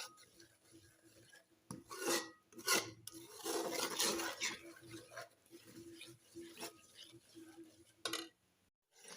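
A spoon rasps and scrapes continuously across a pan as semolina and gram flour roast dry, with gritty rubbing strokes and occasional clinks, close but quiet, no talking.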